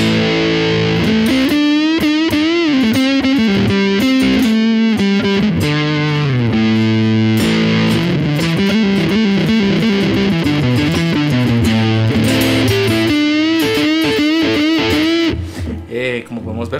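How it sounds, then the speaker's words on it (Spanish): An electric guitar played through a fuzz pedal, loud and saturated with buzzing, sustained notes and chords in a continuous riff that rings out and fades near the end. "El fuzz es muy diferente a una distorsión."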